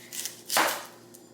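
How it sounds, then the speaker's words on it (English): A knife chops through an onion on a cutting board, giving one crisp close thud with a couple of lighter taps just before it. "I'm really excited to be chopping this onion"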